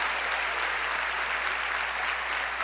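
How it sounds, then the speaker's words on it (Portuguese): A church congregation applauds during an evening Baptist service, a steady dense wash of clapping from many hands that holds evenly throughout with no voices standing out. "Pode aplaudi-lo."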